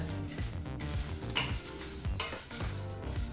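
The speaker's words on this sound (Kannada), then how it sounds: "ಈ ಎಲ್ಲ ಪದಾರ್ಥನೂ ಲೋ ಫ್ಲೇಮ್ನಲ್ಲೇ ಅಂದರೆ ಕಡಿಮೆ ಊರಿನಲ್ಲಿ ಐದು ನಿಮಿಷಗಳ ಕಾಲ ಫ್ರೈ ಮಾಡ್ಕೋಬೇಕಾಗತ್ತೆ" Spices and chillies are stir-roasted on a low flame for raw banana palya, with repeated ladle scrapes and light clinks against the pan over a faint sizzle.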